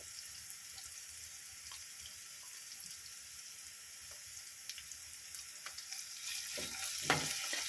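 Homemade ginger garlic paste fries in a pan for pea rice, giving a steady bright hiss of sizzling oil. A few light clicks and scrapes grow busier toward the end.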